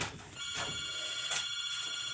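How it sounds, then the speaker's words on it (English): A house telephone rings with a bright, trilling bell, two bursts separated by a pause, fairly faint in a quiet indoor room. "the phone, my goodness, the house is a buzzing"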